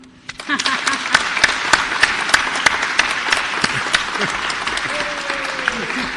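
An audience claps at a panel debate on HIV and the 2030 development agenda to vote for the affirmative, steady, fairly loud applause with distinct individual claps over a crowd wash, lasting several seconds.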